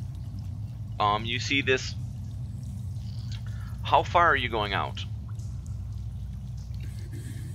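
Rushing water ambience for a fantasy tabletop roleplay, a steady low wash running the whole time beneath two short bursts of conversation.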